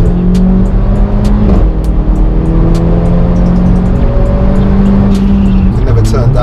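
Loud engine of a tuned Mercedes A45 AMG droning and revving through the interior, pitch shifting as gears change, with a person talking over it.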